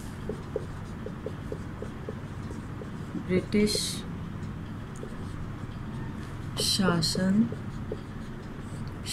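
Pen scratches steadily on paper as an answer is written by hand in a classroom, with a teacher speaking Hindi over the writing at moderate closeness.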